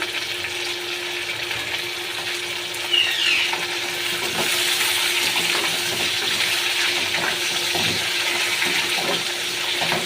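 Spicy chicken and potatoes fry in a pan, making a steady, close sizzle with crackling pops and occasional stirring scrapes across the whole stretch, with no speech.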